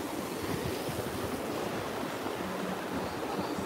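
Black Sea waves wash continuously onto the shore in a steady surf roar, mixed with wind rumble on the microphone and no voices.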